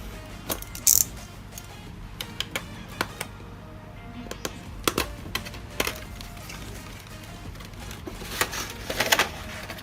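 Unboxing a Signo E-Sport GM-951 Navona gaming mouse: close, irregular crinkles, clicks and sharp taps of cardboard and packaging being opened and handled, with a few louder rustling bursts.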